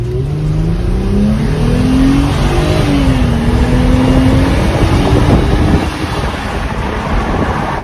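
A Mercedes W209 CLK 350 with a 3.5-litre V6 revs its exhaust, a loud rising and falling engine note sweeping up several times over constant wind buffeting on the microphone.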